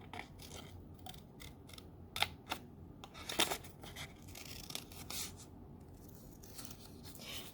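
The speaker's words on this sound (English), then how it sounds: "And then I am going to fussy cut this out." Scissors fussy cut around a stamped design on cardstock for a Christmas cabin card, giving a series of close, quiet snips and soft paper rustles with brief pauses as the card is turned.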